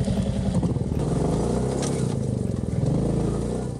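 A motorcycle stuck in the ground during a moto-camping trip in Japan revs hard and close, its engine pulsing in a steady rapid throb with rattly clatter, loud throughout with no voices.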